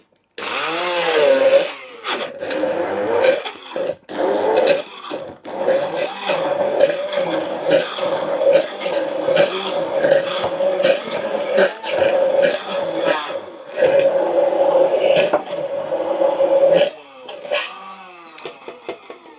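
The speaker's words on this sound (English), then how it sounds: "So then we get our hand blender" Hand blender whirring steadily through a strawberry coulis made with icing sugar, a loud continuous motor drone with a fixed pitch, dipping and surging as it works, with brief gaps near the start and a stop near the end.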